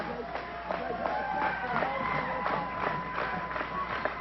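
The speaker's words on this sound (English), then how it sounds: "Another good crowd on hand at the Oregon Civic Center" Crowd murmuring and cheering at a wrestling match at the Oregon Civic Center, a steady hubbub with scattered shouts and thumps, and a commentator talking over it.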